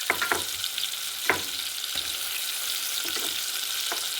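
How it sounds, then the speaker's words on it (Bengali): Four green chillies frying in oil in a pan for a Bengali tel koi fish dish, a continuous close hiss with a few scattered clicks and scrapes of stirring, no voices. "এটাও এর সাথে একটু ভেজে নেবো নেড়ে চেড়ে।"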